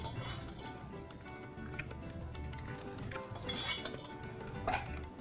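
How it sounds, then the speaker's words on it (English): A spoon scoops hot bechamel sauce over eggs in a baking dish, giving quiet clinks and scrapes of metal against the dish, with one sharper clink near the end. "I'm going to spoon some of this bechamel over the top"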